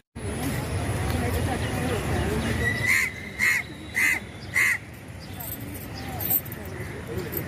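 A crow caws four times in a steady series, loud and fairly close, over outdoor background noise at a spot where people walk and feed pigeons; voices talk at the start.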